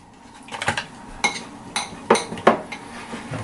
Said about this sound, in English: I'll give this a quick stir.